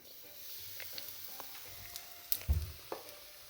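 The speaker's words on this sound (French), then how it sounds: "j'ai mis du beurre dans la poêle. Le beurre a fondu et maintenant je vais l'introduire petit à petit." Batter poured into melted butter in a frying pan, a soft, quiet sizzle with faint crackles and a louder splash-like hiss partway through as more goes in; no voices.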